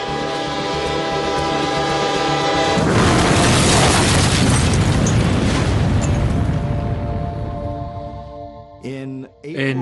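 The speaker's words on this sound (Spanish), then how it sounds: "se produjo una explosión de un tren en el norte de Corea del Norte" Train explosion in the north of North Korea, April 2004: a loud, sustained roaring boom bursts in after a few seconds of rumbling rail noise, holds broad and heavy for several seconds, then fades as music-like tones return, with no talk.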